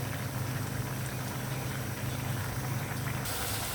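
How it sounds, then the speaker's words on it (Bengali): Mola fish curry with potatoes and tomatoes boiling hard in a covered pot, a steady dense bubbling rumble that holds evenly throughout with no voices. "আমার মাছের তরকারিটা ফুটে উঠেছে।"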